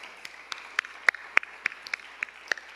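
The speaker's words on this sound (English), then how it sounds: "let's give one more big round of applause for class number 430" Sparse, distinct claps ring out in a roughly regular rhythm at a guide dog and service dog class graduation, each clap crisp and separate rather than a full crowd wash, fairly quiet overall.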